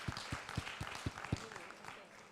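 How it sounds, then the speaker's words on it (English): Audience applause at a safe motherhood conference, scattered clapping with a few distinct heavy claps in a rhythmic run, fairly faint and mixed with background voices. "Let's clap for them."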